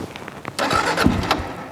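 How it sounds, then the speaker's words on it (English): Motorcycle engine cranking over briefly, either a Yamaha Super Tenere or a Kawasaki KLR650, a short rough starter churn lasting under two seconds, close by and moderately loud. "let's start both of these bikes and hear them run."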